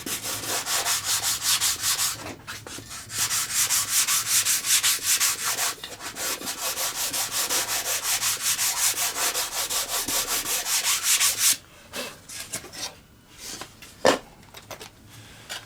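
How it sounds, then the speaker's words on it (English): Folded sandpaper rubs back and forth on the tailplane of an FW190 warbird replica model in fast, steady close strokes for about eleven seconds, then gives way to a few quieter scrapes and taps. "just use my sandpaper like that, and just I folded that over"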